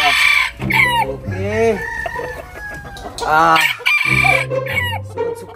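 Chickens cluck and a rooster crows at close range, several loud calls rising and falling over a few seconds, with a brief spoken word partway through.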